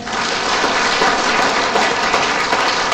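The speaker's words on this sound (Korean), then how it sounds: "박수 한번 쳐보세요" Dense, sustained applause fills a Catholic Charismatic Renewal lecture hall, a loud, steady wash of many hands clapping together with no talk over it.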